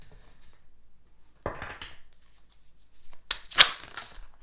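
Quiet room, then a quick riffling burst of affirmation cards being shuffled, followed by a second louder flurry of papery snaps and flicks.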